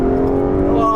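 An Aston Martin Vanquish engine revs loud and close in a short, steady sustained drone.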